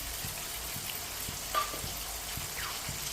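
Finely chopped tomatoes and green chillies fry in a pan with potatoes for an aloo matar pulao, giving a steady, even sizzle with faint stirring scrapes underneath.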